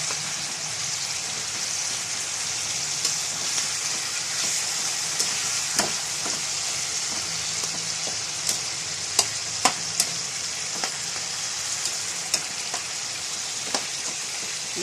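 Food deep frying in oil for biryani, a steady close hiss of sizzling with scattered sharp pops and spatters throughout, no voices.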